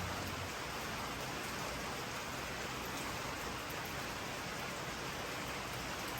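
Steady rain falls by a riverside boat dock on Calhoun Street, a soft, even hiss of drops with no pauses and no voices.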